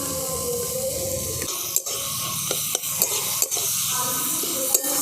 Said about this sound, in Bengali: এই সয়া সসটা দিয়ে আমি আরেকবার ভালো করে নেড়ে নিচ্ছি